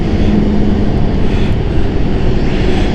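A plane in a striking livery at London City Airport, heard as a loud, steady broadband engine roar that holds constant and close throughout, with no talking.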